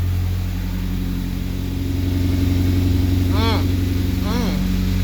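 A Nissan Pulsar GTi-R engine idles steadily after its first start-up in a while, a low, even rumble close by, with a voice talking over it and brief chirps near the end.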